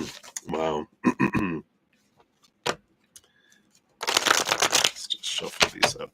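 Tarot cards are shuffled in short riffling bursts, separated by gaps and brief mumbled voice, with a longer, louder flurry of card handling near the end.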